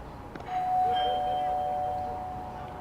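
A doorbell chime plays over a ballpark's public address during a Bark at the Park baseball game at PeoplesBank Park, as a single sustained ding-dong tone heard at a distance over crowd ambience.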